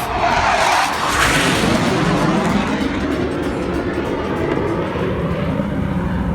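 A loud military jet roar sweeps overhead and lingers as a broad, rumbling wash of noise that slowly fades, with no voices.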